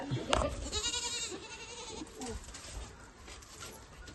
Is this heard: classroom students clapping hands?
no